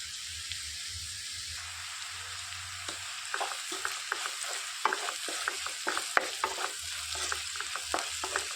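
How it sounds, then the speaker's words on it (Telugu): Onions fry with turmeric in a pan for a tempering, a steady hiss and sizzle broken by repeated scraping stirs of a spoon, close and without talk. "మొత్తం వేయించేసుకొని ఒక రెండు సెకండ్లు ఈ తాలింపు అనేది మంచిగా వేయించుకోవాలి"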